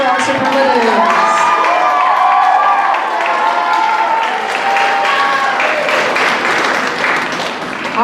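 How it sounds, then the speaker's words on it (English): An audience applauds and cheers at a high school spring choir concert, a loud, dense wash of clapping with crowd voices mixed in, holding steady throughout before easing slightly near the end. "let's give another round of applause for our superlatives"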